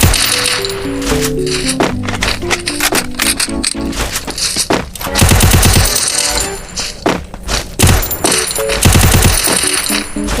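Dense, loud gunfire in a shooting video game, with rapid automatic bursts and heavy shots rattling almost continuously while the player jumps and fires, alongside game effects. No speech.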